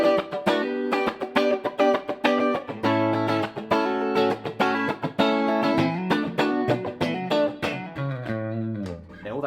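Electric guitar played on the clean channel of a Marshall Origin 50 amp head, bright chords and picked notes in a lively, choppy rhythm, close and clear with no talking.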